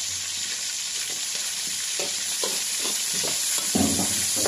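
Tomatoes going into a hot frying pan, a steady close sizzle with intermittent stirring scrapes and clatters, no talking.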